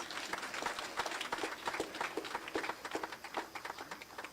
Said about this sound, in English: Let's give her a big round of applause, please